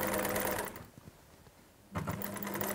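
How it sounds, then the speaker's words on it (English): Sewing machine stitching a line down the front of a knitted cardigan to prepare a steek, running in a steady close buzz, pausing for about a second, then starting again. "when you start sewing, it may go a little bit crooked sometimes"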